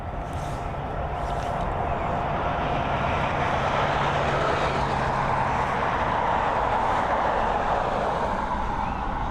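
Airliner EI243 arriving from London Gatwick at Dublin Airport gives off a continuous, loud jet rumble and rushing roar that stays steady throughout, with no speech over it.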